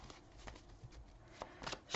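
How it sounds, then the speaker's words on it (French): Oracle cards shuffled by hand for a nine-card reading, a soft continuous papery riffling with a few brighter flicks, quiet and close, with no voice over it. "Je vais faire un tirage en 9 cartes."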